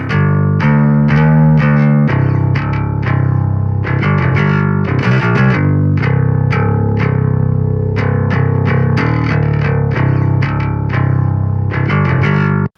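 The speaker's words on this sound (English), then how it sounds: "use the compressor here and just compress the DI a little bit before it hits the distortion" A metal bass guitar is played through a compressor and distortion amp simulations, giving a thick, gritty, sustained tone with a rhythmic run of picked notes, loud and up front with no talking.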